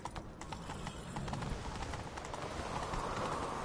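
Rapid rhythmic hoofbeats of a galloping horse in The Witcher 3 video game, loud and close, running continuously throughout.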